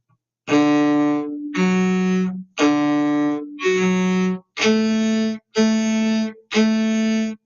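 A bowed cello plays seven sustained notes from a winter concert piece one after another, each clearly separated by a short gap, loud and close with no talking.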